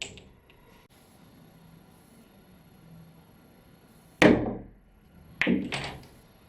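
A cue stick strikes the cue ball for a masse shot off the rail on a pool table, one sharp close tap followed by a second quick double knock of balls about a second later, in an otherwise quiet room.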